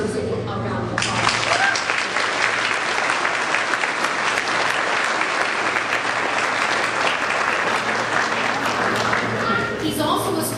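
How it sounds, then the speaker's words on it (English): A graduation audience at Keiser University bursts into loud, sustained applause that starts suddenly and fills the hall with dense clapping for about ten seconds. "I think he deserves a round of applause."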